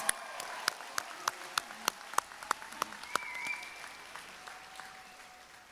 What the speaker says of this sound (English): Let's have one more round of applause for the School of the Arts, Christopher Carr